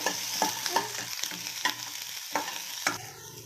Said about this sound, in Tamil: சின்ன வெங்காயம், பூண்டு, இஞ்சி நல்லா அதையும் வறுத்துக்கணும்.